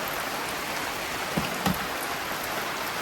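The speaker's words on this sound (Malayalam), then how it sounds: "പെട്ടെന്നുള്ളൊരു മഴ" A sudden rain shower falls steadily around a house, a dense, even hiss of drops with a couple of brief louder patters near the microphone.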